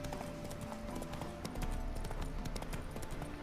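Steady clip-clop of horse hooves trotting over hard ground in the video game The Witcher 3, a continuous rhythmic patter with a faint background hum and no speech.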